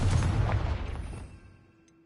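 The Confringo fire spell in Hogwarts Legacy on PS5 bursts as one heavy, deep boom that rumbles and fades out over about two seconds, alone and fairly loud.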